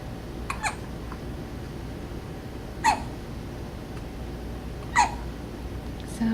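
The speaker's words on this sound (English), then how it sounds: "you have hiccups." A sleeping baby girl hiccups in a quiet room: a few short, sharp hiccups, spaced two to three seconds apart and close to the microphone, over faint background hiss.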